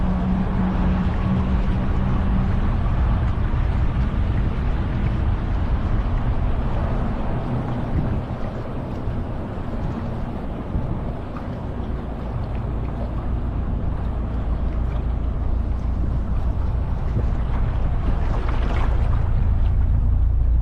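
A tour boat with dual engines near Hoover Dam, a continuous low engine drone running throughout with wind buffeting the microphone and water rushing, loud and close for the whole stretch.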